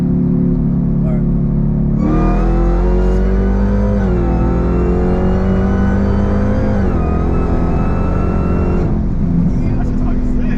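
A 1,000whp Hellcat accelerates hard in third gear, its loud engine note climbing steadily through the rev range from inside the car, with a brief shift dip midway before the revs settle.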